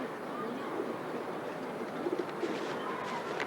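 Pigeons kept by a breeder in Giza, Egypt, coo softly, with low, muffled calls repeating a few times against a quiet background hum.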